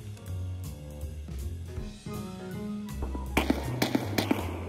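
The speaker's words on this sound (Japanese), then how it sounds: "ミリアルたちが来た方から銃声がする" Gunfire in Escape from Tarkov rings out amid the game's background tones, with a short run of sharp reports near the end, separated by brief gaps and sounding fairly close.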